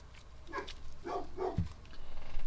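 A few short, muffled dog barks sound from a distance over low background noise.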